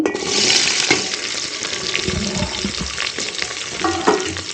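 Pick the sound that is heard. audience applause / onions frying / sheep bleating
onions frying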